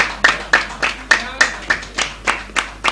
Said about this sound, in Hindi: मैं चाहता हूं कि तालियां बजती रहनी चाहिए